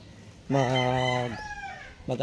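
A single drawn-out rooster crow rings out clearly, followed by the start of another call, from a gamecock.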